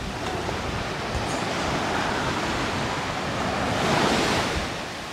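Sea waves wash onto a windy beach at Playa de Muro, a continuous rushing surf mixed with gusty wind buffeting the microphone, swelling slightly toward the end.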